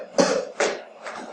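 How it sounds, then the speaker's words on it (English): Three short coughs in a quick series, close and fairly loud, the last one softer. "I will pretend that was a natural cough"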